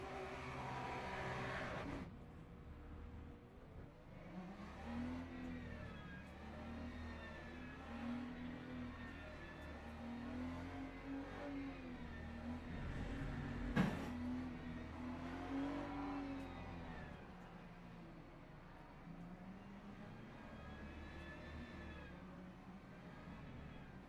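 Race cars on a formation lap at Fuji in Le Mans Ultimate, engines droning at steady moderate pace with harmonic whine rising and falling, a brief sharp click midway, continuous throughout.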